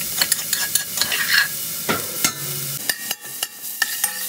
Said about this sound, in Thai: เราจะคั่วเครื่องหอมประมาณ2นาทีเนาะจนกระทั่งเราได้กลิ่นหอมขึ้นมา